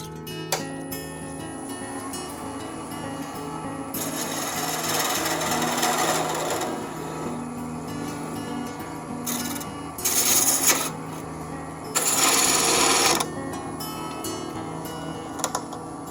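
A wooden snowman parted off at the hat end on a woodturning lathe, with a steady scraping, rasping cut running under a motor hum and brief louder bursts near the end.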